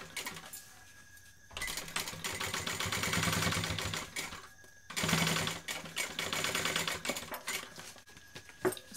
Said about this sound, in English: My seam is pointing to the outside and I'm top stitching.